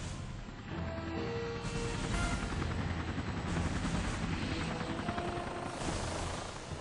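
Helicopter in a video game mission: a continuous loud rotor drone holds throughout, with bursts of gunfire-like cracks mixed in and no talk.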